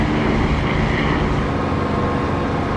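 Steady, loud aircraft engine drone in the DCS flight simulator, heard from the cockpit with the canopy closed, a continuous even roar with no talk over it.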